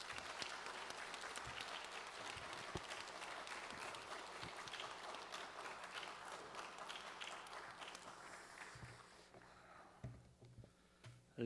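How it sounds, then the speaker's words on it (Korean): A church congregation applauds to welcome a visiting pastor to the pulpit during a prayer service, steady crowd clapping filling the room for several seconds before thinning out near the end. "박수로 환영하겠습니다"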